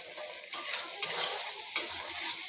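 Spice paste for taki fish curry sizzles steadily in a hot pan, with a few louder bursts of frying as it is stirred and scraped, close and alone without any voices.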